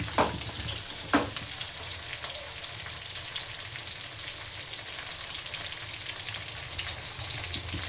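Onions, green chillies and tomato sizzling steadily in hot oil for a village-style chicken sambar, a soft continuous crackle with a couple of sharper spits near the start and no voices.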